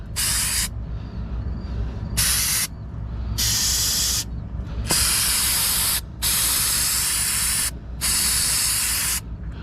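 An aerosol spray hisses in several loud bursts of a second or two each, cleaning excess oil off a CAT 938M wheel loader's transmission parts, with short pauses between them, over a low steady hum.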